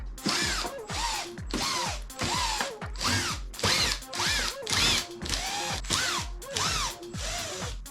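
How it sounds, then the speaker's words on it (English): Electric driver removing screws from the back panel of a Pioneer DJ XDJ-XZ controller: about nine short, close whirring bursts in a steady rhythm, each pitch rising then falling, with no talk. "And now we will remove those screws."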